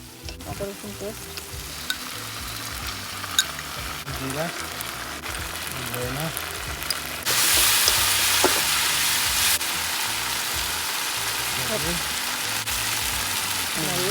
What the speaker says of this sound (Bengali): একটু চিকেন বসাই দিছি